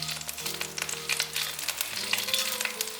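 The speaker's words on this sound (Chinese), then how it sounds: "锅内放入一些油，准备3克的花椒粒，适量的辣椒干。 冷油放进来，慢慢煸香。" Sichuan peppercorns and dried chilies fry slowly in oil over low heat, producing a faint, steady fine sizzle with light crackles, close and quiet.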